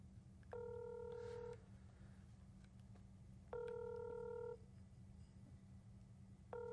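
Unanswered phone call ringing back, with a repeating tone lasting about a second and recurring every three seconds, three rings in all, over a low steady hum.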